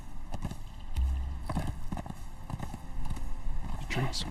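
Horse hooves clip-clopping in the game Conan Exiles, a quick rhythmic run of hoofbeats at close range, with someone talking over them throughout.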